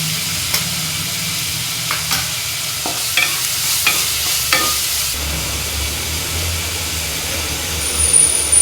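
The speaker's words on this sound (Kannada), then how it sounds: "ಒಂದು ಚಮಚದಷ್ಟು ಶುಂಠಿ ಬೆಳ್ಳುಳ್ಳಿ ಪೇಸ್ಟ್ ಹಾಕ್ತಾ ಇದ್ದೀನಿ" Ginger garlic paste frying in hot oil for soya bean sukka, a constant close sizzle with several spoon scrapes and taps against the pan, and a low background hum underneath.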